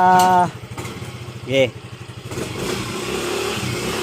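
A Yamaha Mio i 125 scooter engine blips in two short revs separated by a lumpy idle, then settles into a steadier running putter, close by, with a voice briefly heard over it.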